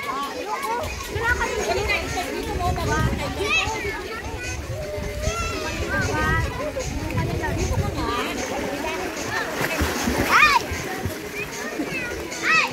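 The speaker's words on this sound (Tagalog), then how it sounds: "Dali na, langoy kayo papunta doon ni Sian." Children play and splash in a garden pool at a birthday party, with lively overlapping shouts, chatter and water splashes throughout, and an adult voice speaking among them.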